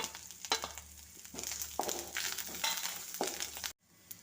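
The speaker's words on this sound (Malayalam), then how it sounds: "കറിവേപ്പില ഇട്ടു." Curry leaves sizzle in hot oil with a bright crackling hiss, and a spoon stirs and scrapes through it several times up close before the sound stops abruptly.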